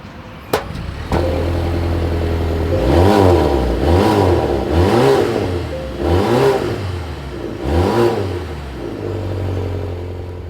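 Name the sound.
car exhaust revving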